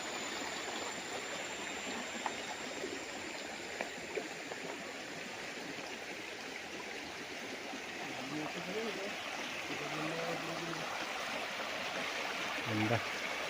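A river flowing through a three-hectare farm lot in Real, Quezon makes a steady, faint rushing wash as someone speaks over the water.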